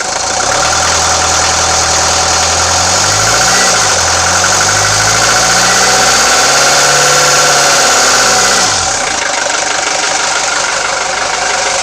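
A 1983 Mercedes 240D diesel engine runs at a steady, loud idle with a rough knocking clatter. Its low pulsing drone wavers throughout, and the tone shifts briefly near the end.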